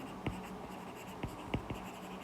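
Handwriting during an electronics lecture, a few quiet strokes and taps of a pen or marker heard close and faint over low room hum, with no talk during it.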